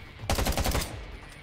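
A short burst of rapid automatic gunfire in a zombie survival mobile MMO game, about eight quick loud shots in a tight rhythm, then a brief fading tail.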